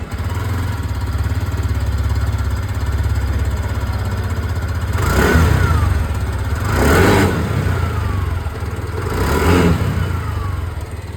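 A 2024 TVS Jupiter 110 scooter with a 113.3cc engine runs at a steady low idle, then is revved three times in quick, rising bursts before settling back, close and loud with no talking.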